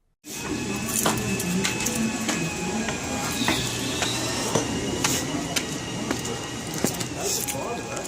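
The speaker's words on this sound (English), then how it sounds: "It's the fact that the diesel generator makes a reverberation that we can feel" A steady low mechanical drone of a diesel generator runs throughout, with scattered clicks and indistinct voices underneath.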